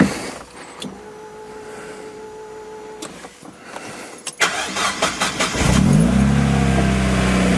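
Car engine cranks and fires up after a few seconds of electric whine, then settles into a steady loud idle with rising revs; the car has a nitrous setup and the throttle is held at about 20% during the start.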